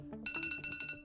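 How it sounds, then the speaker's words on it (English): An alarm rings as a silver market opens, with a rapid repeating electronic chirp pattern that starts abruptly and plays faint and distant. "Oh, that's the alarm. It just went."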